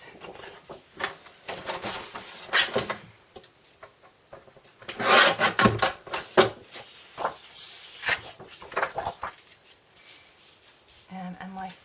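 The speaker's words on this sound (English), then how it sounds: "So I'm going to start by taking off the manufacturing strip." Papery scraping and rubbing sounds come from close by as a manufacturing strip is peeled off a printed A4 photo, uneven crinkly strokes with louder bursts in the middle while a person talks in between.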